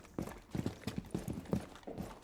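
Enemy footsteps thud on the floor above in Rainbow Six Siege, a quick uneven run of deep, muffled impacts, fairly quiet and heard on their own.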